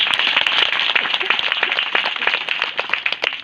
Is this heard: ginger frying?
no